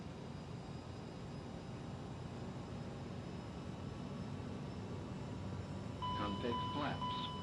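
Steady aircraft engine roar from a flight simulator taxiing at New York LaGuardia swells slightly as thrust is pushed up, with faint talk near the end.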